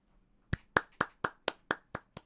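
About eight distinct hand claps ring out in an even rhythm, sharp and fairly close, with quiet gaps between each one.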